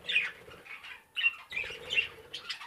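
A female recessive harlequin bird flutters its wings in short, close flapping bursts while being caught by hand, with a brief pause before the rustling picks up again.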